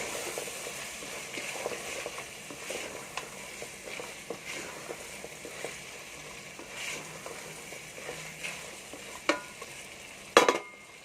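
Carrots being stirred into peas already frying in a pan for aloo matar gajar methi, with soft scraping and a low sizzle under quiet background, and a couple of sharper clanks near the end.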